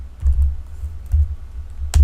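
Computer keyboard keys tapped in short bursts while writing Node and Express code, close and fairly loud, with brief pauses between clusters of keystrokes and no talking.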